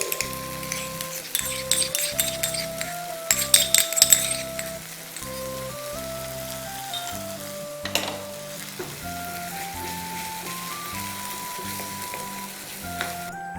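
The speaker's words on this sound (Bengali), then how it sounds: "গ্রেভিটা ফুটতে আরম্ভ করেছে" Yogurt gravy for mutton rezala bubbling and sizzling loudly in a pan, with a metal spoon clinking and stirring in bursts over a steady hiss, and music playing throughout.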